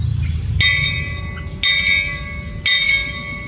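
A school bell rings out in three evenly spaced, bright metallic strikes about a second apart, each ringing on before the next; no one talks.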